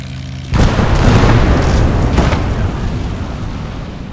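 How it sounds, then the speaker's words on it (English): Mortar shells land in Call to Arms: Gates of Hell as a loud, close booming blast that rumbles and decays over several seconds, with a second impact layered into the roar and no voices. "Goodbye, mortars."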